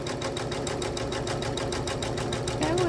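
A sewing machine stitches a quilt held in a magnetic hoop, its needle thumping in a fast, even, mechanical rhythm, loud and close throughout.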